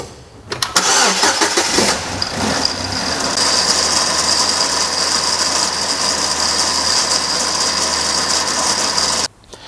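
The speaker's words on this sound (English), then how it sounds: "I'm going to start the car and let it idle" A turbocharged car engine cranks with a brief ratcheting whir, catches, and settles into a steady idle that hums on evenly before cutting off abruptly near the end.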